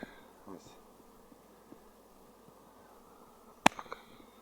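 Honey bees fly around beehives of weaker colonies outdoors, a faint, thin buzzing of passing insects under a quiet background, with a sharp knock near the end.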